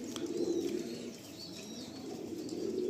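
A pair of Madrasi Kalanka pigeons, a male and a female, give soft, low cooing calls that come and go in short phrases, faint and close in a quiet space.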